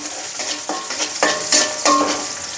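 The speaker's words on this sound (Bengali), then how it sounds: "পেঁয়াজ আর মরিচ হালকা করে একটু ভেজে নিব।" Onion with green and dried chilies frying in a pan, a dense hiss of sizzling oil with a few distinct stirring scrapes spaced about half a second apart, close and fairly loud.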